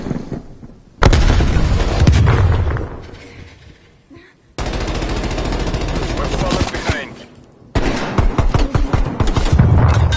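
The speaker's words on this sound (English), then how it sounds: "Using flashbang." Flashbang grenades go off in a shooter video game: sharp, loud blasts with crackling bursts and rattling gunfire, each followed by a fading ring, repeating several times.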